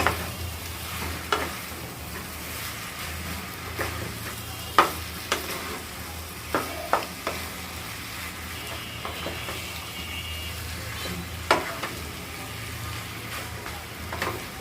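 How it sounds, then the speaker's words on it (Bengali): Thai noodles with spices being stirred in a pan, a steady soft sizzle under scattered scrapes and clacks of the utensil against the pan, close and moderately quiet. "এটা অ্যাড করার পরে হালকা একটু নেড়ে দিলে, ঢেকে দিলে হয়ে যাবে আমাদের আজকে মজাদার থাই নুডলস"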